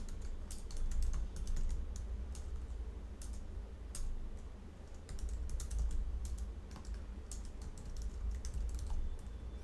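Code being typed on a computer keyboard while building a website. The keys click quickly and irregularly in close, fairly quiet bursts, with no talking.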